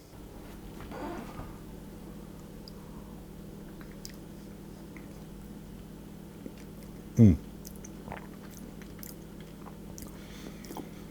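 Someone tasting a spoonful of firm-set mango and lemon posset gives off soft, close chewing and squishy mouth sounds, faint and intermittent, with one brief sharper knock midway through.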